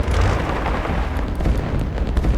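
Combined bombardment in the strategy game Rise of Nations: a dense, continuous rumble of overlapping explosions and booms that rolls on loudly without pause and with no voices.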